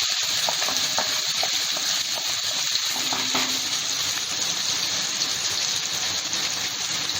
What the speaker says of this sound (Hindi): अब हम इसमें डालेंगे बारीक कटी हुई प्याज।